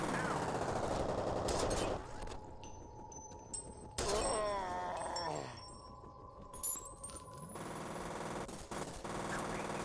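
The ASP pistol fires in a retro video game, with rapid synthetic gunfire bursts amid game effects and electronic tones, fairly quiet in the mix.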